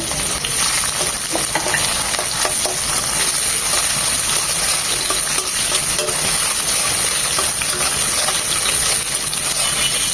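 Chopped onion, about half a cup, frying in hot oil in a pan for a simple roast curry; a steady, close, dense sizzle and crackle runs without a break and carries no talk.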